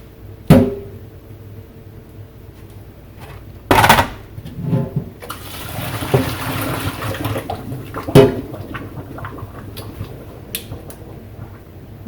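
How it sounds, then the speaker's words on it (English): Boiling water poured off green beans into a sink: a few sharp clunks of a pot, then a running, splashing pour that rises and fades, with no talking. "So we're going to take our boiling water off."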